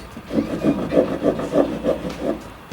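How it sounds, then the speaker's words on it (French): A saw is worked through metal bars in a rhythmic run of about eight steady back-and-forth strokes, close and fairly loud, with no talking over them. "je vais commencer à scier les barreaux"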